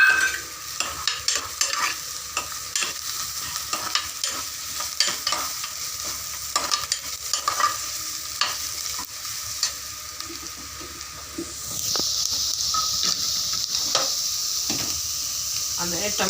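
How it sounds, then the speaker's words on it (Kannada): Ginger, garlic and green chili paste fries in a pan for Punjabi-style aloo dum, with a steady close sizzle broken by frequent stirring scrapes; the frying grows louder and more intense partway through. "ಶುಂಠಿ ಬೆಳ್ಳುಳ್ಳಿ ಹಸಿಮೆಣಸಿನ್ಕಾಯಿ ಪೇಸ್ಟ್ ಮಾಡ್ಕೊಂಡು ಇಟ್ಕೊಂಡಿರೋದು ಹಾಕ್ತಾ ಇದ್ದೀನಿ."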